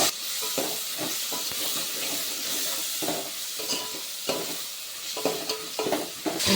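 Dried small fish (endu nethallu) frying in hot oil for a brinjal curry, a steady loud hiss and sizzle with repeated scraping stirs of a spatula against the pan, no voices.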